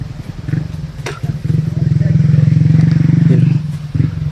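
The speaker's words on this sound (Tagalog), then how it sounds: "May naririnig tayong hindi kalayuan ng motor tol." Motorcycle engine running some distance away in an outdoor hideout area, a low steady droning rumble that swells in the middle and fades again over a few seconds, with soft nearby movement.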